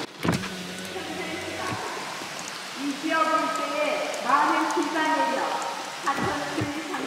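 Heavy typhoon rain in Yeosu, Korea, heard from inside a car as a steady, dense wash of noise, with a power window whirring and people talking over it.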